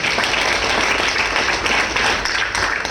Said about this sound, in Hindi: बिग एंड जोर ताली बजा दीजिए